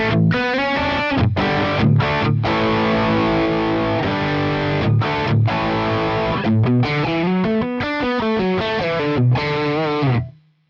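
Distorted electric guitar through a Fractal FM9 preset with the enhance boost switched on, playing chugging rhythm chords and riffs with brief stops, loud and close, alone without talk.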